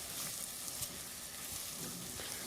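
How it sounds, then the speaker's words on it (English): Onions sautéing in a pan for butter chicken, a faint, steady, even sizzle with no distinct stirring strokes. "as we start just sauteing off the onions"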